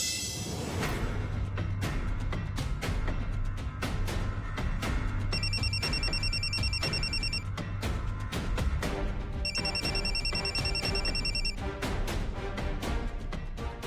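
A telephone rings in two repeated electronic bursts over a constant loud background of music, with no voices.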